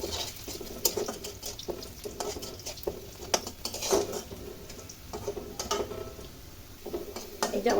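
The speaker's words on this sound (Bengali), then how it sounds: "এবার এটা আমরা একটু ব্রাউন কালার হয়ে আসা পর্যন্ত একটু নাড়াচাড়া করে নিব।" Food fries in a pan while a utensil stirs it repeatedly until it browns, producing a soft sizzle punctuated by irregular scraping clinks against the metal.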